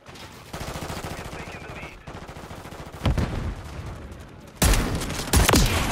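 Gunfire in the Call of Duty video game, bursts of rapid automatic shots in clusters with short gaps, the loudest volleys coming later and hitting hard and close.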